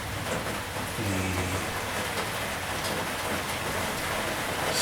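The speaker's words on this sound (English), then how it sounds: "sound of the rain hitting on the roof" Steady rain drums on a roof in a continuous, even hiss. It is fairly loud and close, with no voices.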